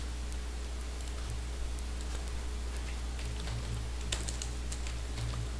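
Typing on a computer keyboard, with soft, irregular key taps set against a steady low background hum and no talking.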